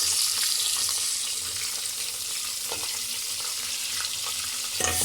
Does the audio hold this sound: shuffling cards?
no